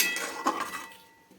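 A lid clanks onto a cooking pot, one clear metallic clink with a brief ringing that fades within a second.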